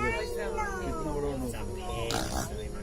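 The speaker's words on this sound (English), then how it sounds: "Yo, listen to the pig." A pig grunts and squeals nearby at a night zoo in Singapore, its voice rising and falling against a noisy outdoor background.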